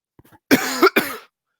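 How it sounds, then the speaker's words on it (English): Several harsh, close coughs in quick succession from a man during a sports podcast recording, loud and alone with no talk over them. "Oh my goodness, I can't stop coughing."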